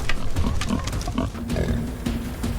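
Low guttural grunts and snorts like a wild boar come in a rough, rapid series over a noisy, rustling background.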